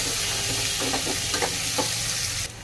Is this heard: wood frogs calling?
no